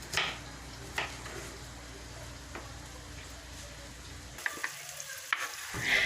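Meat sizzles steadily in a pan, a constant crackling hiss with occasional sharper pops and stirring clatter, close by and without talk.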